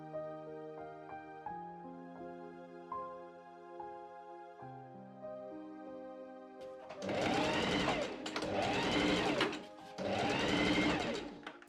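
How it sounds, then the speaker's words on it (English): Soft music plays alone at first, then a sewing machine stitching gathering rows on fabric runs in three loud, close bursts with brief pauses between them. "I add 2 rows of machine gathering stitches to the top and bottom of my sleeve pieces."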